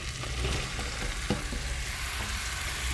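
Okra tossed into a pan with softened tomatoes sizzles steadily, a continuous frying hiss with occasional stirring scrapes, close and moderately loud.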